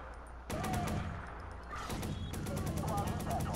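Rapid bursts of light machine gun fire in the Watch Dogs video game, a loud sustained rattle that starts abruptly, breaks briefly, then resumes, with a voice talking underneath.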